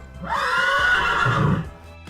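A loud horse neigh close by, a long whinny that rises and then fades into lower snorting sounds.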